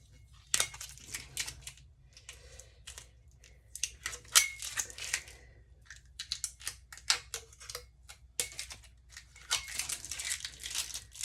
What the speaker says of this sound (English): Now we're going to take the stencil off, and you can tear it to shreds.